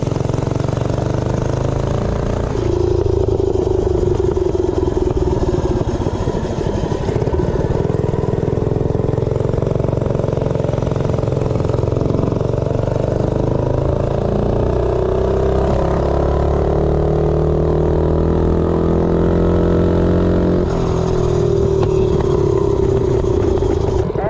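The Doodlebug minibike's small engine, fitted with street tires, drones continuously at full throttle during a top speed run, its pitch rising and wavering as it accelerates, loud and close throughout.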